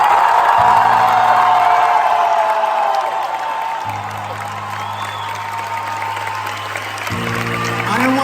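Live concert crowd at a show in Padova applauding and cheering loudly, a dense continuous roar of clapping and whoops that eases slightly midway and swells again toward the end.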